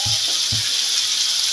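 Vegetables fry in fish oil with a steady, bright sizzle that holds evenly throughout, with a couple of soft low knocks of stirring near the start.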